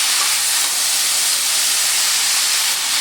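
Washed spinach hits a hot pan and gives off a loud, continuous steam hiss, broad and close, holding steady for several seconds with no pauses and no voices.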